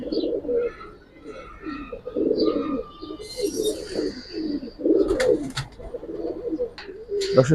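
Babu pigeons at a pigeon market in Bangladesh coo in low, repeated throaty bursts, joined by a few higher chirps, with faint voices in the background.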